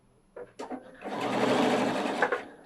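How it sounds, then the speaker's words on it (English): A Pfaff 710/720 sewing machine runs under foot control while stitching in reverse, a steady close motor whir with rapid needle clatter lasting about two seconds after a few short taps and clicks. "if I am running the machine with the foot control and I push the reverse button, it sews in reverse as long as I am pushing that button"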